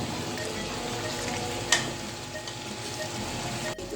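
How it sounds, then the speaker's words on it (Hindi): Half a kilo of potatoes frying with meat and spices in a pot, giving a steady, dense sizzle throughout with one brief stir or scrape partway. "अब आलू अंदर ऐड करेंगे। आधा किलो आलू हैं, ये अंदर ऐड कर देंगे। इसको अच्छे तरीके से हम मिक्स करेंगे और आलूओं को भी 5 से 6 मिनट अंदर भूनेंगे।"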